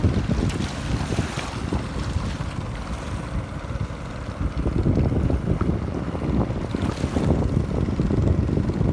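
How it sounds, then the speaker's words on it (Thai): A boat engine drones steadily as the boat passes along a canal, with wind buffeting the microphone and the rumble swelling louder toward the end; no one speaks. "ลอยเรือลอยลำ มา ตาม ชาย คลอง"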